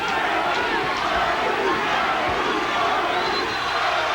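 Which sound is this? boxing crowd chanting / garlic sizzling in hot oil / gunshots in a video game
boxing crowd chanting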